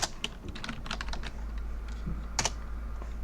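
Keys clacking on a computer keyboard as a password goes into a Linux terminal, a quick run of clicks followed by a few isolated taps, close and fairly clear, with no talking.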